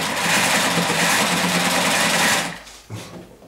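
Electric motor of a sewing machine running with a dense steady whir and buzz for about two and a half seconds, then dropping off and stuttering briefly, close and with no talk.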